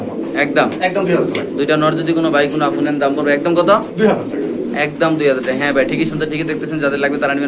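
Male pigeons coo in a pigeon seller's loft, their soft repeated calls running under near, continuous talk.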